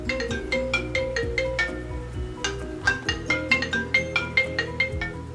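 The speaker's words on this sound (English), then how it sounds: "it's my phone ringing" A phone ringtone plays alone with no talk, a bright melodic tune of repeating chimed notes in a steady rhythm, loud and close throughout.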